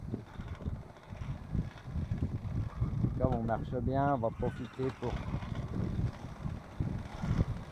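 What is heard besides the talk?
wind on a sailboat at sea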